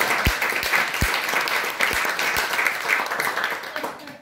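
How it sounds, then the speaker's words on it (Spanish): Applause from the audience at a circus puppet show, a bright, dense rush of clapping with a few heavier close thumps near the start, steady and fairly loud before tapering off slightly. "fuerte el aplauso para ella"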